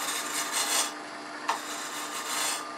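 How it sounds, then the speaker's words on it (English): A spindle roughing gouge takes peeling cuts through bulk wood on a lathe, giving a steady hissing rasp with slight surges and one brief tap partway through, fairly close with no voices. "I start removing some bulk wood with a spindle roughing gouge"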